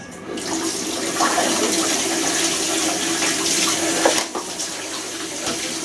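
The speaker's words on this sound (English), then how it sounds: "So, again, give them a quick rinse." Homebrewing gear gets a quick rinse under running water, a steady close splashing stream that pours continuously and briefly shifts as the equipment is moved near the end.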